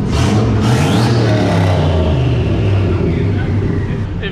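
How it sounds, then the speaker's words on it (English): Turbocharged 5.3L GMC Yukon V8 with no other modifications revs hard and steady throughout, a loud, deep engine roar close to the microphone with a rising pitch early on. "this sounds like it's making a bona fide 800, 900 horsepower"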